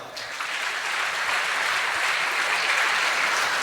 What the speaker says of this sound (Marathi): एकदा सरांच्या स्टाफसाठी जोरदार टाळ्या वाजवा